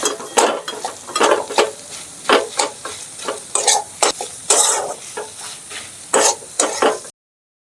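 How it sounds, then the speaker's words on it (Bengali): Chicken and boiled potato stirred together in a pan on a stovetop for chicken patties, a quick series of close scraping, clattering spoon strokes over a soft sizzle, with no talking, ending in sudden silence. "এবার আমি আলু সেদ্ধটা দিয়ে দেব এটাকে দিয়ে ভালো করে সাথে চিকেনের সাথে মিশিয়ে নেব"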